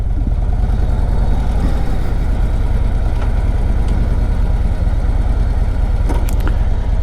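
A 2025 Harley-Davidson Road Glide motorcycle engine runs steadily at idle, a loud, continuous low rumble that holds without a break, with a few faint clicks partway through.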